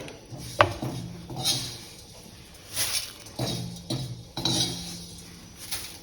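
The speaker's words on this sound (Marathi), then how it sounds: "पोहे आपण ह्या पातेल्यात काढूया" Fried thin poha for chivda is tipped into a cooking pot, giving intermittent soft rustling pours and light metallic clinks and scrapes of a utensil against the vessel, close by.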